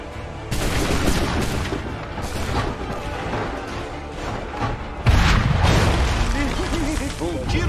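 Gunfire in Assassin's Creed 3 during the Battle of Monmouth, loud volleys of musket shots and booms bursting repeatedly, with a second heavy blast midway, under game dialogue.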